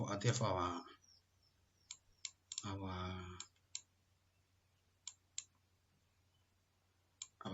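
A computer mouse clicks a few times, sharp and isolated taps spaced seconds apart, while a person talks briefly at the start and again near the middle.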